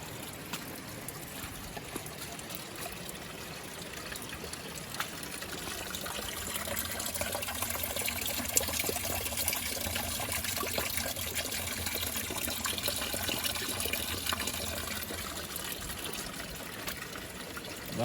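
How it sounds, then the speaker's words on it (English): A small spring on the Abrams Creek trail trickles and dribbles steadily, a soft continuous wash of running water heard close by with no talking. "So let's take a look at this little spring."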